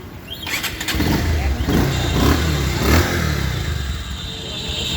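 A used Bajaj Pulsar 150 motorcycle engine starts and keeps running close by at a steady idle with a slight rise in revs, loud and continuous for the whole stretch.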